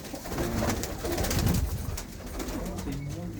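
Pigeons cooing in a loft of show-quality birds, a soft throaty chorus of overlapping coos close by and continuing steadily, with someone talking over them.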